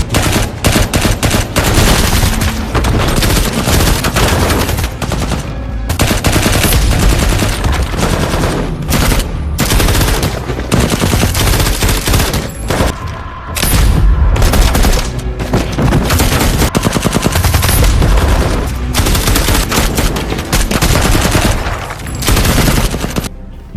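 Film battle scene with a team under attack from several sides: heavy continuous gunfire, loud automatic bursts and single shots layered into a dense, unbroken barrage.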